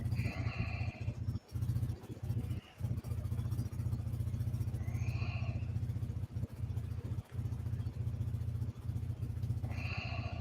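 A vehicle engine idles steadily during a repair, a continuous low rumble with faint clattering, broken by a few brief dips and short higher-pitched blips.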